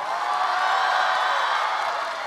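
A studio audience applauds and cheers for a singer on a televised singing competition, producing a dense, steady wash of clapping and shouting that holds at an even, loud level from start to finish.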